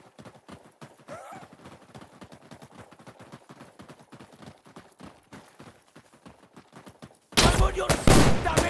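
Gunfire in the shooter game Insurgency: Sandstorm, a long run of rapid, evenly spaced shots crackling close by, then a sudden much louder and denser burst of blasts near the end.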